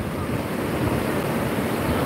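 Waves rolling onto the white-yellow sand beach at Lampuuk, Aceh Besar, a steady, fairly loud rushing wash of surf mixed with wind, no voices heard.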